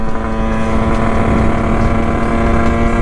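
A Sherco Supermoto 50 with a big bore kit on an AM6 engine drones steadily in sixth gear, a loud continuous buzzing engine note mixed with wind rush and no talking.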